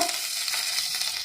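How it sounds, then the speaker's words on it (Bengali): A dried red chili dropped into hot mustard oil gives a brief, bright hiss of sizzling, steady and close, with no voices. "এবার এতে দিয়ে দিচ্ছি একটি শুকনো লঙ্কা"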